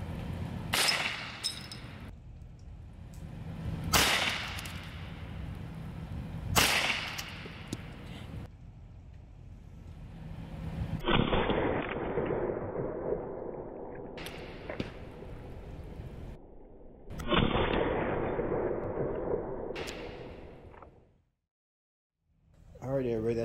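An Evanix Viper .30 caliber PCP air pistol fires at eggs. Several sharp, loud shots are spaced a few seconds apart, followed by longer noisy stretches and talk.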